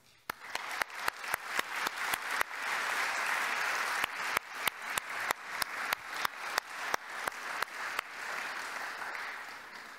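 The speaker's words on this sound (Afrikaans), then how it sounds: "Kom ons klap vir al die mense, dankie." Congregation applauding in a church during a thanksgiving service, a full room of clapping that swells and holds, with sharp loud individual claps cracking out repeatedly over the crowd's applause.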